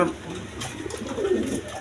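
Bombay pigeons, large birds, cooing in a pigeon market, with a low throaty coo rolling under nearby talk and background noise.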